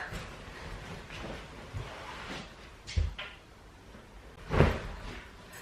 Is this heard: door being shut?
yes